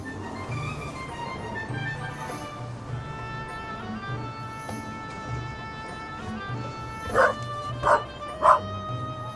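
A dog in The Raven video game whimpers and yips in thin, high whines, then gives three short, sharp barks near the end over a soft in-game musical backdrop.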